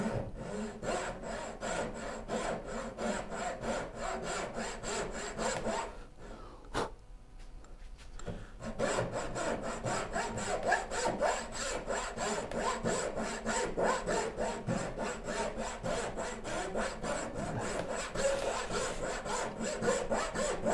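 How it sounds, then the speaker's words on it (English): Wood being cut with a new hand saw in a woodworking shop, steady rhythmic rasping strokes close up, with a brief pause around the middle before the sawing resumes and continues to the end. "Why am I not sawing straight? Partially because it's a new saw"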